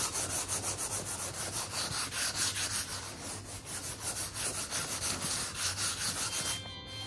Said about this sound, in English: just give it a really, really quick sand